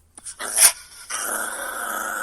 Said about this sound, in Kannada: ಕಿತ್ಲಾಡ್ತಾವೆ ಒಂದಕ್ಕೊಂದು ನಾಯಿಗಳು ಇಲ್ಲಿ